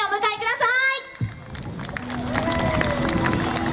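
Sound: audience applause welcoming performers on stage

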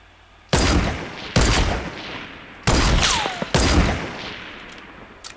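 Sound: gunfire in the video game Fortnite

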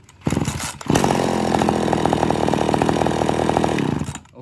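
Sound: Japanese chainsaw engine running after restart

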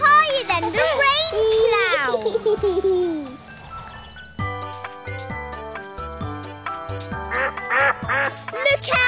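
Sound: ducks quacking

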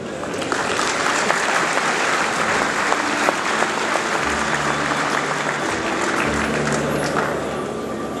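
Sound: audience applause at cattle show

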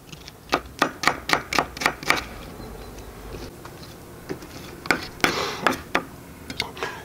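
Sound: knife chopping onion

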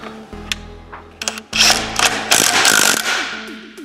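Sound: impact driver tightening large 18 mm nut on Lambretta sprocket

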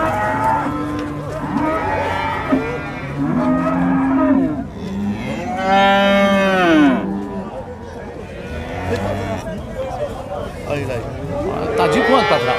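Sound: cattle mooing at livestock market

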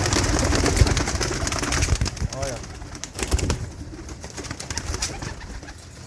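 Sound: pigeons cooing

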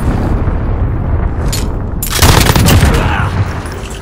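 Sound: cruise missile explosion in Call of Duty Modern Warfare video game

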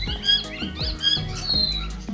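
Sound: plum-headed parakeet squawking

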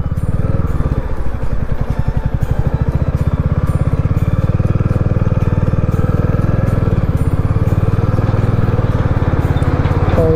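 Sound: motorcycle riding off-road through mud

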